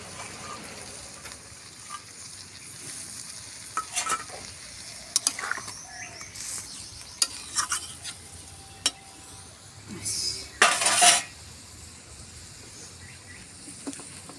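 Chopped tomato and soaked raw chickpeas sizzle softly in a pan while a utensil stirs and scrapes in scattered clicks, ending with a louder burst of sizzling.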